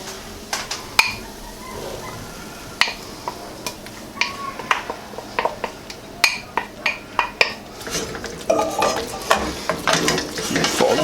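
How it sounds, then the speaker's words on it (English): Egg mixture being stirred into spaghetti squash in a hot pan, with a spoon scraping and clinking against the pan in quick repeated strokes over a soft sizzle, close and clear, without talk. "we're just going to keep stirring it, and it will cook the egg at the same time"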